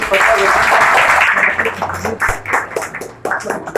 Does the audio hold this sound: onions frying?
no